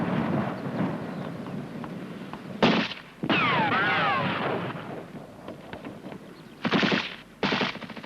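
Sustained automatic gunfire and heavy bursts from a 1971 military training exercise on section fire and maneuver, loud and continuous with sharp louder blasts breaking through, no voices.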